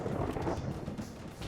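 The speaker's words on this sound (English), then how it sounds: "You can hear that, the thunder, right?" Thunder from a lightning turret in a tower-defense style video game, a dense, loud rolling rumble with broad crackling noise that swells and fades slightly over a short stretch, no voices.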